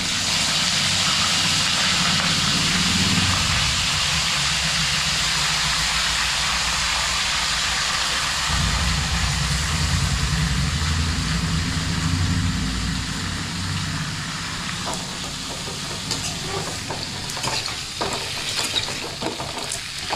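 Eggplant pieces frying in hot oil in a home kitchen for a Tamil oil-fried brinjal dish, a steady loud sizzle throughout with occasional stirring scrapes toward the end, no talking.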